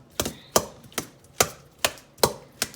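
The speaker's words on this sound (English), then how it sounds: "I'm gonna mash my potatoes up." A masher pounds potatoes in a bowl for holiday cooking, giving steady, evenly spaced thuds about twice a second. The sounds are close and there is no talk.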